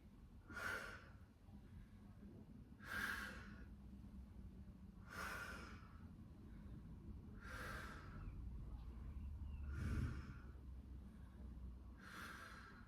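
Heavy breathing during a Pilates workout, six forceful breathy exhales at a regular rhythm about two seconds apart, close and clear over a low background hum.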